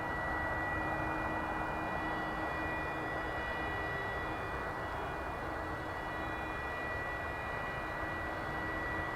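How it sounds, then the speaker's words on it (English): An airplane at the Dallas/Fort Worth (DFW) Airport runway produces a steady, distant jet roar that stays broad and even for the whole stretch, with a faint high whine on top and no talking. "There's a plane out there somewhere."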